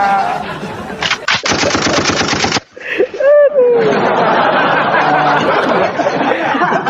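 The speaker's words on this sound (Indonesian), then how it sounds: "Udah lama gak dengar suara tembak ya" A gunfire sound effect, a rapid machine-gun-like burst of loud, evenly spaced shots lasting just over a second, followed by laughter and chatter.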